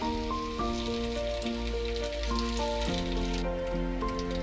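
Four bay leaves crackle softly in heated ghee in a pan, a light, even sizzle running beneath prominent background music with stepping melodic notes.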